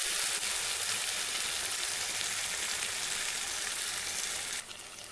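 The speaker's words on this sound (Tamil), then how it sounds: "வெங்காயம் தக்காளி எல்லாமே நல்லா வதங்கி இஞ்சி பூண்டு வாசனை எல்லாமே போயிடுச்சு" Onion, tomato, ginger and garlic fry in a pan with a dense, steady sizzle that holds close and even, easing slightly at the end.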